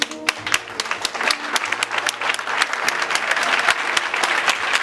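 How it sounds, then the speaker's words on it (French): Audience at a prophetic church gathering applauds steadily, a dense burst of clapping from a crowd that builds and holds for several seconds, with faint voices beneath. "Commence à acclamer."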